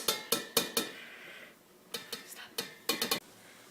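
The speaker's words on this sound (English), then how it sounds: "we want to transfer all of this into a bigger pot so we can mix it with the other ingredients" Sauteed ground beef and onion scraped from a pan into a bigger pot with a metal utensil, giving sharp clinks and knocks in short clusters, a softer sliding scrape between them, close by.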